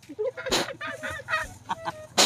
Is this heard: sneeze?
no